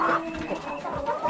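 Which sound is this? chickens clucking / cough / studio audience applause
chickens clucking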